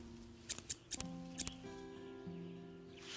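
Garden shears snip plants in the farming game Witchy Life Story, a quick series of sharp clicks in two pairs followed by soft chiming game tones, with no voice.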